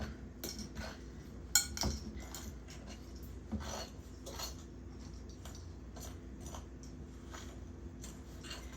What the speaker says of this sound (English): Stir it up as much as you can with the fork until you're not making any progress